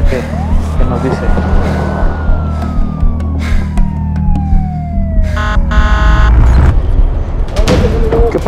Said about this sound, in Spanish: Ahí viene la patrulla, a ver qué nos dice.